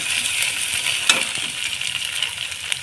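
Egg and potato bhujia frying in a pan, a steady bright sizzle throughout with a few sharp stirring scrapes and taps, close and fairly loud.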